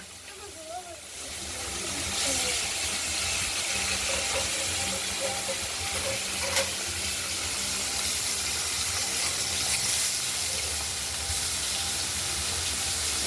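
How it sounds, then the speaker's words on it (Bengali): Katla fish pieces frying in oil make a constant hissing sizzle throughout, with a person speaking over it at the start. "বাকি মাছগুলো আমরা ভেজে নেব।"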